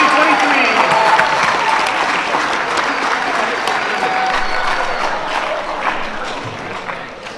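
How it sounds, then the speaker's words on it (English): A large crowd at a high school underclass awards ceremony claps for the class of 2023, loud sustained applause that gradually eases toward the end. "Give them all a round of applause for the class of 2023."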